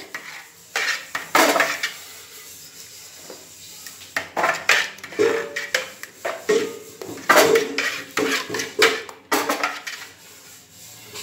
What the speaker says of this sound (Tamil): நம்ம நல்லா கிண்டி விட்டுங்க. அடி பிடிச்சிட போகுது.